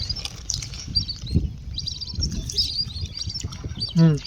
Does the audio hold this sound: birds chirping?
yes